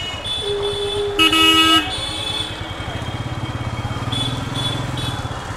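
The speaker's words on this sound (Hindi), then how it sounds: "भाई ट्रैफिक तो बहुत ही ज़्यादा है" Heavy city traffic in Kolkata rumbles close by, a motorcycle engine idling and throbbing while car horns honk in short blasts over the street noise.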